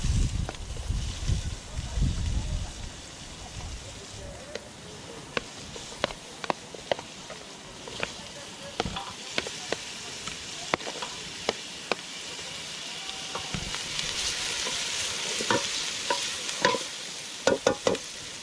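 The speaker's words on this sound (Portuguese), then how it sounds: "Refogada a cebola, rapaziada. Já vou adicionar o tomate e o pimentão." Onion, tomato and bell pepper sautéing in a pot over a wet-wood fire, with a low steady sizzle broken by repeated sharp clicks and scrapes of stirring, and a rumble of handling at the start.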